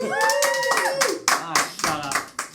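Wrestling crowd at a live match clapping and cheering loudly nearby, a burst of excited voices and hand claps with a few sharper claps standing out.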